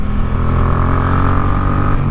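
A Yamaha MT-07 motorcycle ridden in second gear, its engine a steady, loud, close drone with a constant pitch throughout, without any talk.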